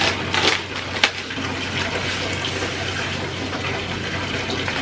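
Epsom salt poured into a running bath, a grainy hiss and clatter over the steady rush of tap water filling the tub, with one sharp tap near the start, no voices.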